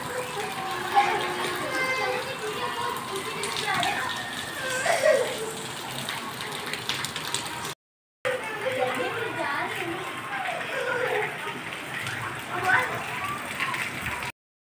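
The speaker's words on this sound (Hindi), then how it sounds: "ये देखें इतनी तेज़ बारिश हो रही है" Heavy rain pours steadily with splashing water while children play nearby; voices talk over the downpour throughout, with a brief dropout midway.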